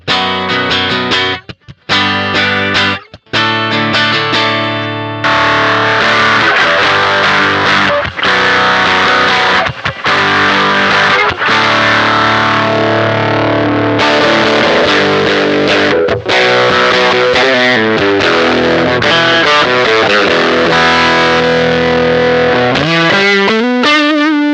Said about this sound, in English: hear how the Jeff reacts to single coils with this Agape Guitars E